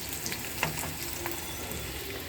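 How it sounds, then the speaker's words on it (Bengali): Garlic and onion frying in a pan for a lentil tempering, a steady low sizzle with a few faint stirring clicks, quiet and continuous throughout. "রসুন আর পেঁয়াজ ভেজে নিচ্ছি।"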